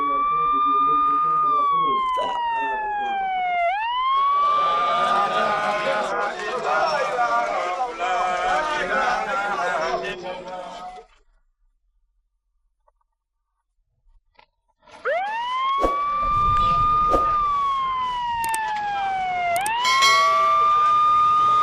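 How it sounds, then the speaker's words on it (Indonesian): An ambulance siren wails in rising and falling sweeps through a grey city afternoon, loud and close, with traffic noise around it. It cuts out briefly to near silence, then wails again. "Suara sirine ambulans itu memekik memecah siang yang kelabu di langit ibu kota."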